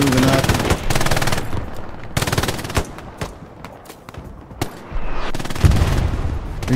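Machine gun covering fire in Hell Let Loose on the Utah Beach map, long loud bursts of rapid automatic fire broken by pauses and single shots, with a voice speaking during the lulls.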